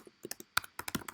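Quick, light keystrokes on a computer keyboard tap out a short burst of text, irregular clicks close and fairly quiet, with no talking.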